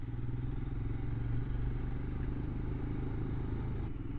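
A Royal Enfield Scram 411 motorcycle rides along an off-road trail with a steady, low engine drone and faint rattling, no voices.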